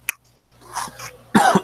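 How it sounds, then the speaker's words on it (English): A short sharp burst, a pause, then a rough throaty rumble and a loud double cough from someone with a cold, close by. "Cough."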